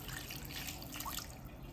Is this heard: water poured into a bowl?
yes